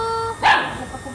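A single sharp dog bark, close and clear, following a faint tonal whine.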